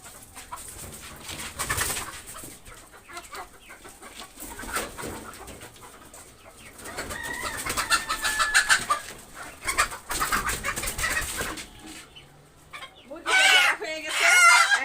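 Chickens and roosters cluck and squawk on a farm while being caught for sale, with scuffling, wing flapping and a burst of loud alarmed cackling near the end; a voice is heard faintly at times.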